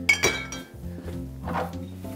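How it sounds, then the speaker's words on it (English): Scotch and Drambuie being stirred over ice in a shaker glass, with a few bright clinks and rattles of ice against glass, close and fairly quiet, followed by softer clinking. "And we're just gonna stir it up."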